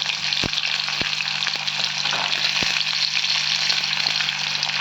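Garlic, onion and curry leaves sauté in hot oil for a tamarind curry with turkey berries, giving a steady close sizzle with a few sharp pops and stirring knocks.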